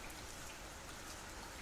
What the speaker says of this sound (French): c'est incroyable comment il pleut